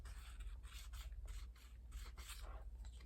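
Steady rasping and rubbing as a tool scratches across iridescent edge coat on fabric, a continuous close scraping texture with repeated strokes and brief pauses, no voices.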